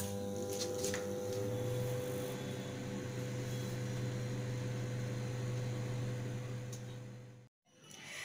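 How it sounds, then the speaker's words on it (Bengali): A microwave oven cooking chicken tandoori gives off a steady, low electrical hum with a constant drone for several seconds. Near the end it cuts off abruptly into brief silence before a faint noise returns. "ফাইভ মিনিটস মাইক্রোওভেনে হয়ে গেছে।"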